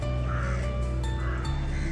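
Crows caw repeatedly in a park, harsh calls recurring in a steady rhythm over a constant, loud background hum and other ambient noise.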